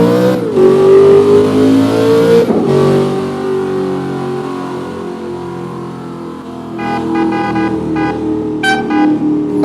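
A Corvette ZR-1 engine revs and accelerates, loud and close, with a strong steady roar and a sharp rise in pitch partway through before it settles into a sustained drone.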